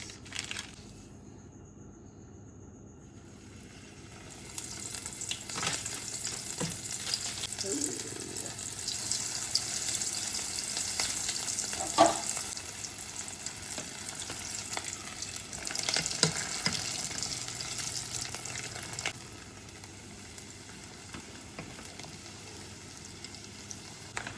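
Food from a Dollar Tree meal sizzling in a pan, a faint steady frying hiss that swells after a few seconds with occasional clanks and stirring, then fades near the end.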